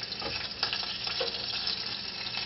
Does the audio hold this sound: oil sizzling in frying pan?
yes